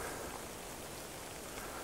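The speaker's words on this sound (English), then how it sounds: "Bit of rain." Light rain falls outdoors as a steady, even hiss of fine drops, constant and broadband across the brief moment with no voices.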